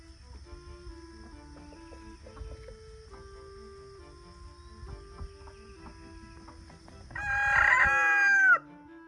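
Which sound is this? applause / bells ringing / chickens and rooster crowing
chickens and rooster crowing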